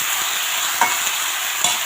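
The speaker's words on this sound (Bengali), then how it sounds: "এখানে ধুয়ে রাখা লাউটা দিয়ে দেবো, আস্তে আস্তে লাউগুলো দিয়ে দেবো, পুরোটাই একবারে ঢেলে দেবো। দিয়ে একটু নেড়ে নেব" Washed bottle gourd is stirred in a frying pan. A steady hiss of frying runs underneath, and a couple of sharp utensil knocks and scrapes land close by. No one speaks.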